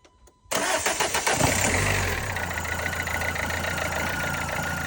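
After a brief crank, a freshly reassembled French car engine with worn old fuel injectors catches and starts, settling into a steady, slightly uneven idle close by.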